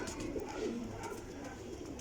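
A VIP champion breeder pigeon coos softly nearby, low rolling coos repeating over a faint background murmur.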